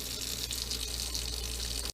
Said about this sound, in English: I'm going to turn the hot water on, let it heat up for a while